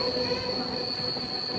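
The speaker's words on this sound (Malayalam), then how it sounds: "ട്രെയിൻ ഇപ്പോൾ നന്ദി ഹോൾട്ട് സ്റ്റേഷനിലേക്ക് ഇതാ എത്തുകയാണ്." A train pulling into Nandi Halt station near Nandi Hills, its wheels squealing loudly and steadily against the rails in a continuous close-up metallic screech.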